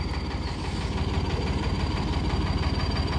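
A tractor engine idles steadily at close range, a loud low rhythmic chugging with a fast even knock, heard alone during potato loading work on a farm.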